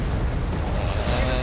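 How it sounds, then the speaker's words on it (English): Dense rumbling artillery fire from Wargame Red Dragon, a continuous heavy wash of distant booms and blasts blending together, loud and unbroken through the moment. "All my artillery are just striking where they are now."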